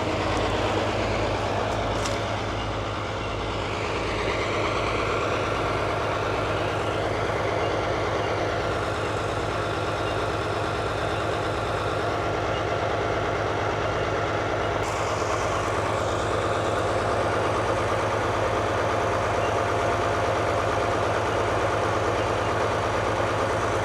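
An old Allis Chalmers HD14 bulldozer from around 1940 runs steadily, its diesel engine holding a loud, even throb for the whole stretch with no breaks, close to the listener.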